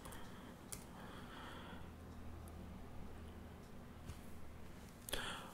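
Light typing on a Chromebook keyboard while entering commands, a few faint scattered key clicks and taps over a quiet room hiss, with a louder burst of clicks near the end.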